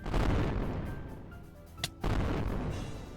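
A cannon in a boss fight in a video game fires with a heavy, rumbling boom, followed by a sharp crack and a second deep blast, all without talk.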